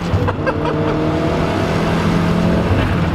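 A freshly installed car engine roars steadily as the wheels spin, a loud continuous drone with a low hum running throughout, close and without pauses.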